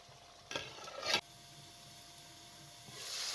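Two short scraping stirs of a spoon through cabbage mince curry with blended tomatoes in a pot, close and fairly faint, followed by quiet simmering and a rising hiss at the end; no talking.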